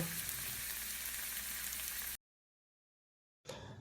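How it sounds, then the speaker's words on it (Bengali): Battered eggplant fritters (beguni) deep-frying in hot oil give a dense, even sizzle for about two seconds, then cut to silence before the frying hiss returns briefly. "বাকি যে কটা আছে সেগুলোকেও এইভাবে দিয়ে ভেজে নেব"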